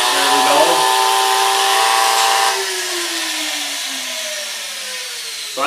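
A 110-volt AC grinder power tool runs at full speed and full voltage, a loud close whine that holds steady and then winds down in pitch as it coasts to a stop.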